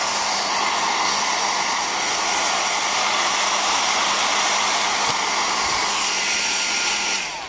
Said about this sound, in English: This is a two-speed air dryer.